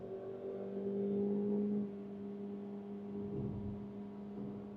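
A Maruti Suzuki Victoris AllGrip automatic held in manual gear M2, its engine droning steadily under acceleration from inside the cabin, pitch holding and swelling slightly before easing off.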